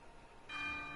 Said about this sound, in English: Right now, the bell should be ringing in 3, 2, 1.